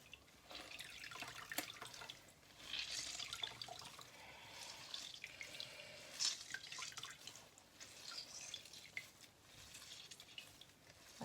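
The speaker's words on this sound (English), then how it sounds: "squeeze the excess water out." Water drips and trickles from soaked bread being squeezed by hand in a kitchen, faint, irregular splashes and dribbles in several bursts.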